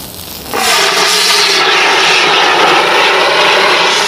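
A fire extinguisher bursts into a loud, steady hissing rush of spray aimed at a fire, starting abruptly and continuing close and unbroken.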